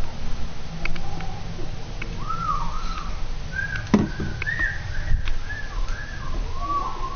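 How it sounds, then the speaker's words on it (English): A person whistles indoors in short, wavering melodic phrases, close and moderately loud, with a few clicks and thumps from the room around them. "Stop whistling."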